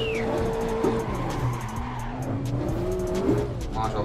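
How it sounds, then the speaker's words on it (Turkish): Cars drifting in the video game Assetto Corsa roar steadily with sliding, wailing tire squeal that bends up and down across the whole stretch, loud and continuous, with no speech over it. "Maşallah, arabalar düz gitmiyor. Amaç yanlamak değil mi oğlum?"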